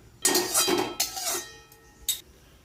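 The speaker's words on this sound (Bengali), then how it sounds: "হয়ে গেছে আমাদের কড়াই চাপানো" A wok (kadai) is set down on a stove for making puffed rice balls, producing a few metallic clanks and knocks, with a loud first impact and a short clank near the end.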